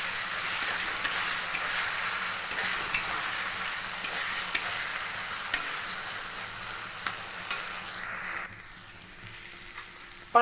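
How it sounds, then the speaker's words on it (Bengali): Onion and poppy seed paste frying in oil with a steady, continuous sizzle, stirred with faint scraping, which eases slightly near the end. "এবার এটাকে আমি ভালো মতো নেড়ে চেড়ে ভাজা ভাজা করবো।"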